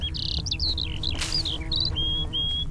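Bees buzz in The Witcher 3 video game, their high, wavering whine sliding and dipping in short overlapping bursts over a steady low game ambience, with no talk.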